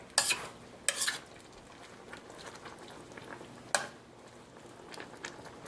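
A spoon stirs squash casserole in a pan, a few distinct scraping strokes spaced apart over a quiet background, close and fairly soft.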